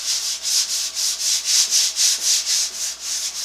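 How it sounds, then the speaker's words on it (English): Shellac is lightly hand sanded with 2000 grit wet-dry sandpaper, in about a dozen soft, rhythmic back-and-forth rasping strokes, close and clear with no talk. "So I've got some 2000 wet dry sandpaper, and I'm going to go over it just lightly"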